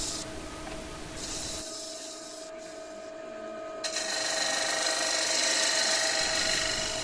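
A wood lathe spins a diffuser being re-turned while a 3/8 spindle gouge cuts its concave face, producing a continuous hiss and whine that grows louder and brighter partway through.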